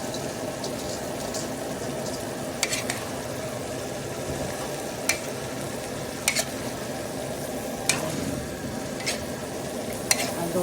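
Chicken and string beans for adobo fry in a pan with a steady sizzle, broken by occasional sharp scrapes and clinks as a utensil stirs the pieces every couple of seconds.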